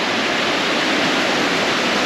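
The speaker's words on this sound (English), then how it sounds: "This is the Col, the waterfall in the centre of Dumfries." A waterfall on a tidal river in central Dumfries pours in a steady, loud, broadband rush of water, close and continuous with no voices.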